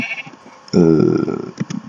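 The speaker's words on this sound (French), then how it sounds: "Trois moutons juste là" Sheep bleat in Minecraft, first faintly and then a loud, wavering bleat near the listener lasting most of a second, with softer blocky game sounds around it.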